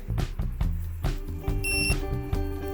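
A metal detector sweeping a yard gives repeated electronic beeps in quick, irregular bursts, close and fairly loud, with a steady tone piercing through near the middle.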